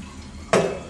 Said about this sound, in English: That's the cafetiere all flushed out.